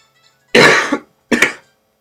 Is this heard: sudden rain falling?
no